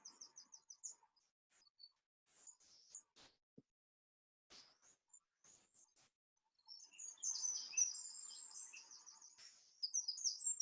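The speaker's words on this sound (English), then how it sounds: "But the wren, even though it's very, very small, has a song that is disproportionately loud." Wren song, faint and far off, with scattered high chirps and clicks early on, then a long stretch of fast repeated trilling notes building near the end, alone with no voices.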